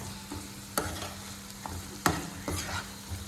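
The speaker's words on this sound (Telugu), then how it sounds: "వెల్లుల్లి పేస్ట్ కూడా ఎప్పుడు కూడా నూనెలో మగ్గితేయండి" Garlic paste frying in oil for a restaurant-style chicken curry, giving a steady close sizzle broken by a few sharp stirring scrapes of a spoon against the pan.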